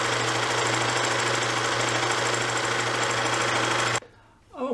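A sewing machine runs a seam through fabric in a loud, continuous mechanical whir with a steady hum, stopping abruptly near the end and leaving quiet handling noise.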